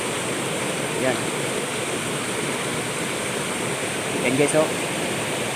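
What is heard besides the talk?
small stream flowing over a mini waterfall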